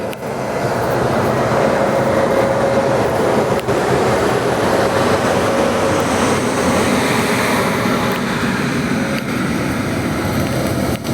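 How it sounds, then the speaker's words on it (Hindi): An express train led by a Lallaguda loco shed WAP7 electric locomotive rumbles past close and loud, a continuous broad roar with a faint steady whine running through it, no voices. "ये रही हमारी ट्रेन और इसको लीड कर रहा है लालागुड़ा लोको शेड का WAP7"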